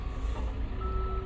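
A tow truck in the Police Simulator: Patrol Officers game reverses with a steady electronic backup beep that holds through the whole clip over a low, rumbling engine drone, with no talking.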